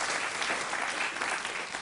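Studio audience applauding on a 1989 German evening television show, a dense, steady wash of clapping that fills the room at close range and holds level throughout, with no voices rising above it.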